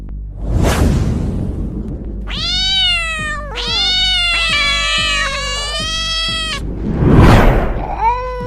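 Animated cats in a horror cartoon yowl and caterwaul in a scrap over food, long wavering harmonic screeches overlapping between sharp hissing swooshes, loud and close.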